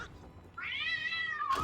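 Cat meow sound effect from the card video game Fable Fortune: one drawn-out, rising-then-falling meow, moderately loud, alone with no talking.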